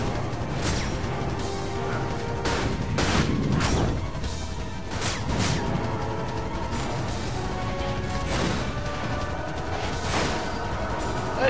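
Gunblade fire in the Dirge of Cerberus video game, repeated sharp blasts and crashing impacts layered over a dense, continuous game soundtrack and effects bed.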